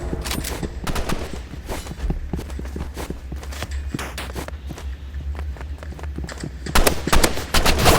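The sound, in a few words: sniper rifle gunfire in video game Rivals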